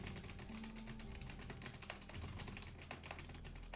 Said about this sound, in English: is this keyboard ASMR-y enough for you?